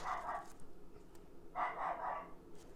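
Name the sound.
neighbor's dogs barking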